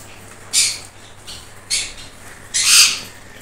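Sun conure parrots give three sharp, harsh squawks, spaced about a second apart and close to the microphone, with the last call longest and loudest, against a quiet background without talk.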